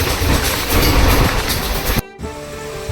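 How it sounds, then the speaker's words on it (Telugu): The Krishna Express runs fast with a loud, continuous rumble and rattle of carriages heard from on board, cutting to a brief gap before a quieter steady roll resumes. "ట్రైన్ అయితే చాలా ఫాస్ట్ కొడుతుంది"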